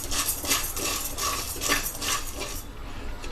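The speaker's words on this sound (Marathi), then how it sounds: "आपल्याला मंद गॅसवर साबुदाणा सारखा हलवत राहायचा आहे" Sago pearls stirred in a pan over a low gas flame: a continuous dry, gritty scraping and rustling with rhythmic sweeps of the spoon, close and fairly loud, no speech.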